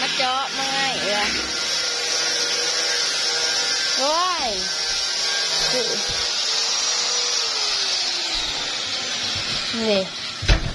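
An electric drill bores into a house door, giving a steady, close whine that runs unbroken for the whole stretch while people talk and exclaim over it.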